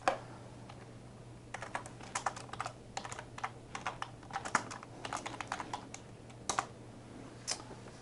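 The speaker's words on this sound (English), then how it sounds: "we'll type in a different address." Computer keyboard typing, a quick irregular run of key clicks in bursts with short pauses, close and fairly quiet over a low steady hum.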